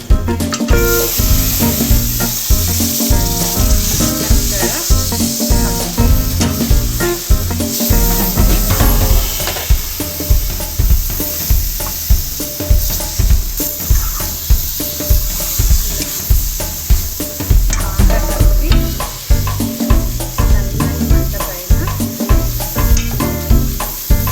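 Marinated chicken sizzles loudly in hot tempered oil, a dense continuous hiss punctuated by rhythmic scraping and stirring strokes throughout.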